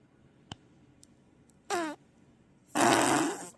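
Farts ring out in a quiet room: a few faint ticks, then a short buzzy squeak and a longer, louder, wet sputtering blast near the end.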